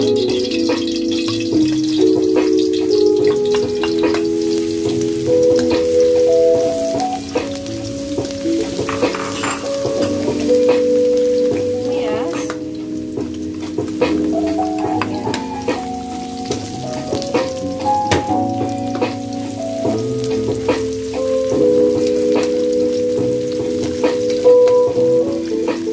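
Minced garlic sizzles and crackles in a hot pan as it is sautéed for lumpiang sariwa filling, a continuous frying hiss with soft stirring over a tonal background.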